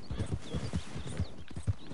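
Rhythmic horse hooves clip-clopping at a steady trot in a PS4 video game, close and fairly loud, with no talking.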